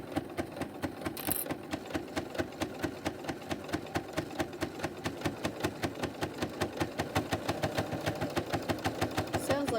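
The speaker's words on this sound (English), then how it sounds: "Sounds like I need to oil my machine here. We'll get that taken care of after this project here. It kind of ticks like that." A home sewing machine that needs oil stitches steadily, its needle ticking in a quick, even rhythm that grows slightly louder and more pronounced toward the end, close and alone.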